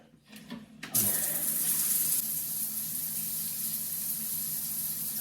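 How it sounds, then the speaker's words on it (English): A home shower turned on and running water, starting with a short gush that settles into a steady, close hiss of spray, alone with no talk. "I get my shower on."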